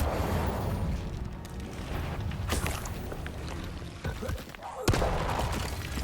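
An Incendio fire spell goes off in the Hogwarts Legacy video game, with sharp whooshing blasts cutting through a steady rumble of combat noise and a strong burst near the end.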